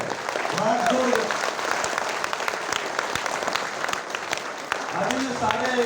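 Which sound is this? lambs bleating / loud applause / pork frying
loud applause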